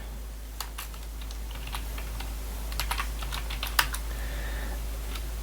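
Typing on a computer keyboard while entering SQL table definitions, a steady run of quick key clicks with occasional louder strikes, close and alone over a faint low hum.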